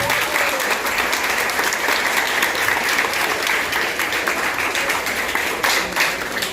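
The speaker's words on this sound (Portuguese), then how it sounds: "Uma salva de palmas, pessoal." Audience applauding at a lecture in a public school during a Black Consciousness Day event, a dense steady wash of clapping that fills the whole stretch evenly with a small swell near the end.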